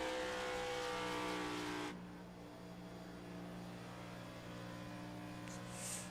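Video game race car engines drone with a steady, buzzing hum, one car louder at first and then fading into a lower, continuous rumble of motors.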